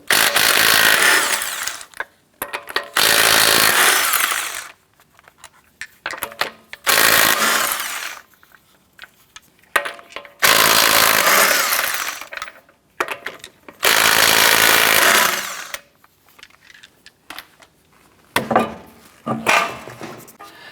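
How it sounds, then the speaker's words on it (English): Impact gun with a 19mm socket loosening the right front wheel lug nuts on a 2004-2008 Acura TL, loud whirring and rattling bursts repeated about five times with quiet gaps between. "Using a 19mm socket, remove your right front wheel."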